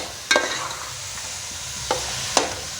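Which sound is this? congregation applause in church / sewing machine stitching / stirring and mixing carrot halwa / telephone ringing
stirring and mixing carrot halwa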